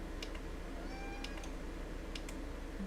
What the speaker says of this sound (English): My cat meowing in the background.